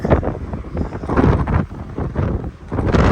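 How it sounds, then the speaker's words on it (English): Strong, gusty wind at Golden Gate in Yellowstone National Park buffets the microphone with loud, low rumbling roars that surge and ease repeatedly throughout. "It's really windy. You may not be able to hear me."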